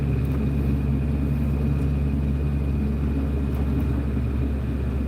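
A car driving through a residential neighborhood in Anchorage, Alaska, heard from inside as a steady low engine and road rumble with a constant hum and no talking.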